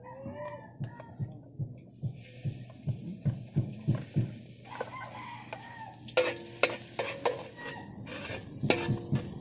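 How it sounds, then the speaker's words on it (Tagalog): Garlic sizzles in a large cooking pot while it is stirred, at the start of a big batch of chicken afritada. Rhythmic scraping strokes run under a steady fry, and a rooster crows in the background. "Now we're going to start cooking. We're going to put our garlic"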